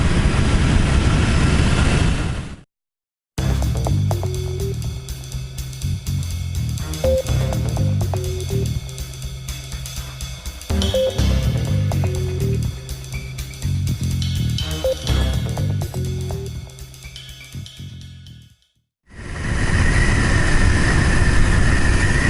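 Motorcycle engine while riding, a loud steady engine drone with shifting pitch as the revs rise and fall, cut by a brief silence early on and another near the end.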